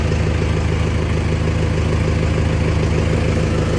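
A warmed-up tractor engine idles steadily with a deep, even diesel chug, loud and close with no talk over it.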